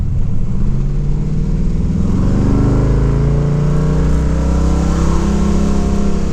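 A third-generation car fitted with an LS engine and a shift kit drones loudly during a test drive, its engine note climbing steadily in pitch as revs rise without any break from an automatic gear change.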